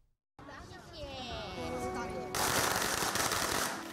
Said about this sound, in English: Strings of firecrackers go off as the first bus departs